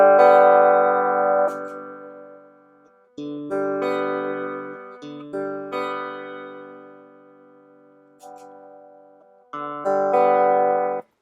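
Electric guitar through an AliExpress vintage phase pedal that gives no phase sweep, only a tonal change. Sustained chords ring out and slowly fade across four separate phrases, clear and alone with no talk.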